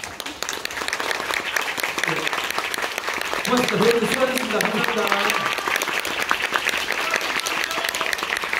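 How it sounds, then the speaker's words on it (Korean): Theatre audience applause at a stage performance of the play Deathtrap: steady, full clapping that carries through the whole stretch while someone speaks over it. "박수 한번 부탁드리겠습니다."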